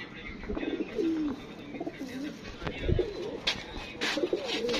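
Pigeons coo in low, throaty repeated calls, several birds nearby, with scattered rustling and a few soft knocks in the background.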